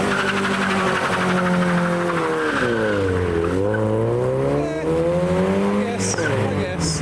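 A 500hp TRD Toyota Chaser pulls away hard from a car meet, its engine note climbing, dipping and climbing again through loud, close revs with a brief tire chirp, while people talk excitedly nearby.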